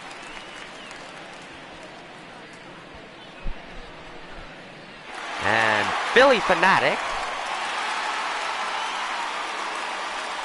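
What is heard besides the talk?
crowd cheering in video game MLB The Show 19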